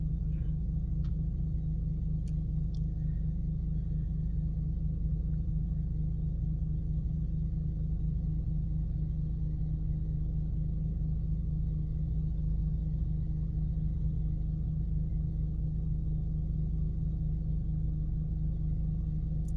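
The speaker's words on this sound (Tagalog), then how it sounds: "Ito po resulta ng baha, matinding traffic." A constant low rumble of idling and crawling vehicles in heavy traffic on a flooded street, engines droning steadily for the whole stretch with no talking.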